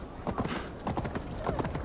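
Hooves clip-clop in a quick galloping rhythm, close and fairly loud, with a brief horse whinny mixed in, from the video game Assassin's Creed Valhalla.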